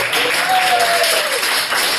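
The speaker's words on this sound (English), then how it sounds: "Round of applause for the two people in the back of the row." A comedy club audience breaks into loud, close applause lasting a couple of seconds, with a faint vocal tone briefly riding over the clapping.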